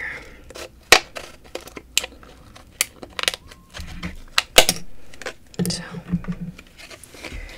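Scissors cut open a Be Pure beauty product package, giving sharp, close snips and crinkly plastic rustles scattered among soft, whispered talk.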